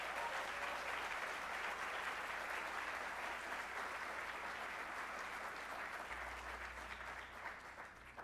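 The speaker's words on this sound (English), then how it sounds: "Let's give them a round of applause." Audience applause at a college spring closing meeting, a steady crowd of clapping that carries evenly and fades slightly at the end.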